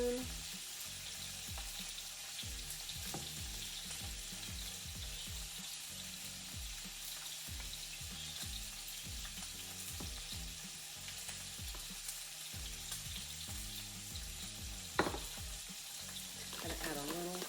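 Salmon fries in a pan with a continuous soft sizzle, joined by clinks and stirring sounds and a brief sharp clatter near the end.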